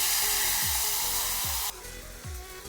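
Diced potato pieces sizzle in hot oil in a pan with a continuous close frying hiss. A few low swishes recur as they are stirred, and the sound drops briefly partway through.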